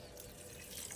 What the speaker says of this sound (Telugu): ఇప్పుడు ఈరోజు మాత్రం వంకాయ మొక్కలకి పోస్తున్నానండి.